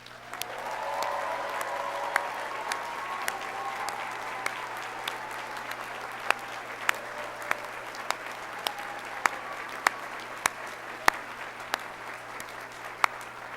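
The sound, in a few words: audience applause for law school graduates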